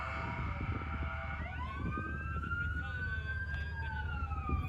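A police Mustang's siren at a car meet, a loud rising and falling electronic wail sweeping upward and holding high over the rumble of engines and crowd noise.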